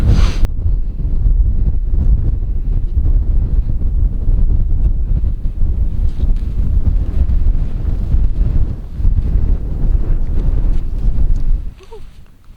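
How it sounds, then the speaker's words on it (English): Strong wind on a Scottish Highland mountain blasts the microphone with a loud, continuous low roar and buffeting that rises and falls, then suddenly drops away near the end. "It said it was meant to be about 5 mile an hour winds, but I think it's a bit more than that"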